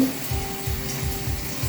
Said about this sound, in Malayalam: നമുക്ക് വറുത്തെടുക്കാം